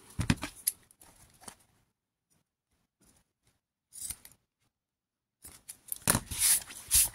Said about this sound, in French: des ciseaux qui coupent bien, qui sont propres